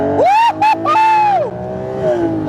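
A Lamborghini Murcielago SV engine roars loudly up close, its pitch climbing sharply through several quick gear changes as it accelerates hard.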